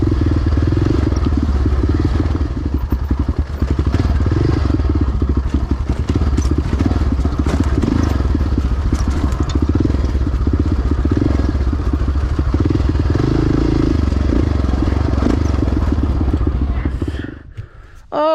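A Honda XR650R dirt bike engine roars loud and steady while riding trails in Peach Valley, with rattling clatter and thumps from rough terrain, wind buffeting, and the rider's voice over it.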